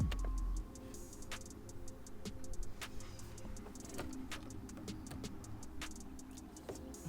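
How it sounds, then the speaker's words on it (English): A budget short shifter being worked through the gears of a car, giving a series of sharp, faint mechanical clicks and ticks spaced irregularly over a quiet interior background. "basically all it does is just shorten the shifts. Click, click, click,"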